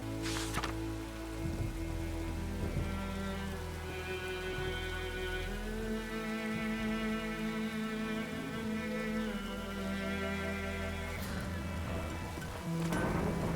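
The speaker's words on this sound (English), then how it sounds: "Let it rain." Steady rain falls with low rumbles of thunder in The Witcher 3, layered under sustained tonal game music, with a couple of brief sharper crackles near the start and end.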